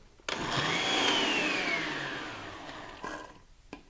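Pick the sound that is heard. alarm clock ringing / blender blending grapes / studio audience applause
blender blending grapes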